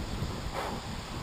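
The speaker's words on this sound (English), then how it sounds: "My goodness, it's windy today." Wind blows outdoors at a garage build site, a steady, moderately loud rushing buffet with a brief swell in the middle.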